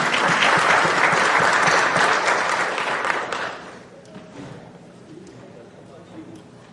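Audience applause for the mayors at a regional municipal forum, dense and loud at first, then thinning to scattered claps and crowd murmur after a few seconds.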